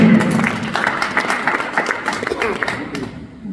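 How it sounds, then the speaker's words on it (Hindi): An audience bursts into loud applause at a Hindi poetry recital about a farmer's plight, dense clapping sustained for a few seconds before tapering off, with a voice briefly audible over it. "एक बार जोरदार तालियां"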